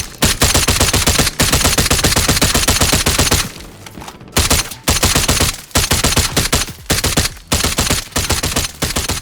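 Rapid DMR rifle fire in the Call of Duty Warzone video game, loud dense bursts of shots repeating fast with short pauses between strings, close and steady throughout.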